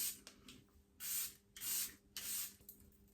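Three short, soft spray bursts from a bottle of Charlotte Tilbury Airbrush Flawless makeup setting spray, evenly spaced with brief quiet gaps between them.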